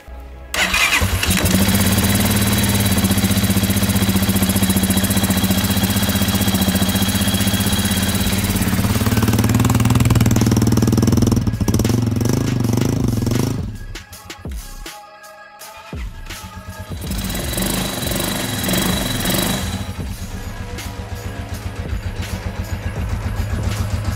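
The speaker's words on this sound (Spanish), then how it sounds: "El sonido del arranque del motor en frío." A Keeway Superlight 200cc motorcycle from 2019 cranks and fires on a cold start, then settles into a loud, close, steady idle with a brief dip and hiccup partway before the engine picks back up and runs on.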